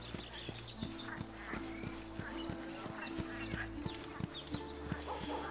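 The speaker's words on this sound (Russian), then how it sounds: "На лошадке поскакали" A horse gallops in the video game Smuta, its hooves pounding in an even, rapid rhythm of clip-clops that carries steadily through the scene, fairly quiet, with little else over it.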